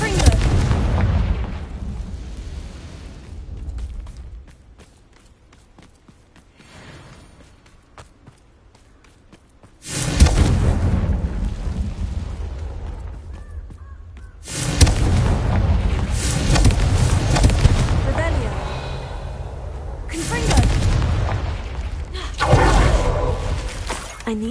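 Fire spell explosions in the Hogwarts Legacy video game burst out in loud, dense blasts at about 10, 14.5 and 20 seconds, separated by a long quiet stretch with only low rumble.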